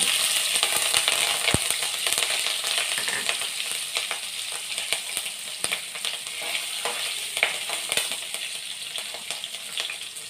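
Mustard seeds, cumin and asafoetida sizzle steadily in hot oil with frequent crisp pops and crackles, loud and close, continuing without pause.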